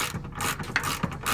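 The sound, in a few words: ratchet removing a bolt from a rear lower control arm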